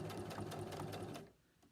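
A sewing machine stitches a quarter-inch seam in a fast, even mechanical whir with rapid needle pulses, close and steady for over a second before cutting off to near silence.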